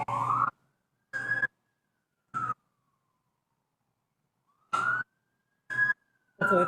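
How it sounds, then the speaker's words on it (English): Emergency sirens wail in short, choppy bursts separated by stretches of silence, loud and fairly close. "I'll pause for the sirens."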